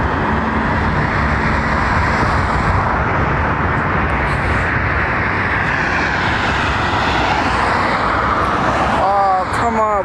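Traffic on a road in New Mexico rumbles past loudly in a continuous broad wash, swelling and fading as vehicles go by, with a person talking over it.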